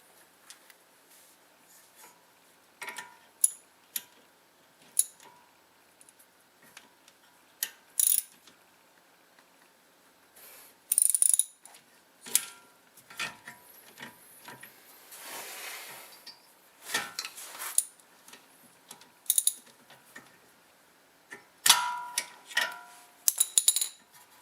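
The rear brake caliper piston on a 2004 Mazda 6 is wound back with a tool. Faint, scattered clicks and ratcheting scrapes come in irregular bursts, with quiet pauses between them and no voices.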